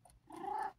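A cat gives a short meow that swells into a sustained purring, growling tone indoors, close and moderately loud, with no talking.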